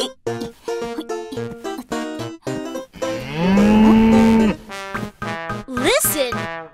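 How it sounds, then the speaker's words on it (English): A cartoon cow moos loudly with one long, drawn-out low call in the middle of a cheerful children's tune, with playful sounds around it. "Listen! There is a mooing sound!"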